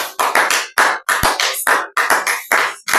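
A church congregation applauds in rhythmic bursts, loud and close, with repeated clusters of hand claps separated by brief pauses.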